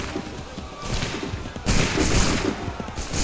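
Soldiers fire a volley of muskets in Assassin's Creed 3, a dense, loud crackling burst of gunfire that swells partway through with scattered shots overlapping.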